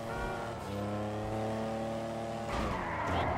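A car in GTA V Online revs and skids with a loud, sustained tire squeal and engine whine, then a sudden harsher burst near the end as the crash hits; no talking over it.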